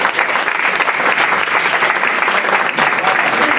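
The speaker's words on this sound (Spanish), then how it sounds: "Un aplauso." An audience at an Asturian film festival award ceremony claps as a best actor prize presenter is introduced; dense, even applause fills the room throughout, close and steady with scattered voices beneath.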